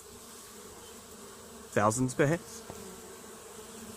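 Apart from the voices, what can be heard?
swarm of bees buzzing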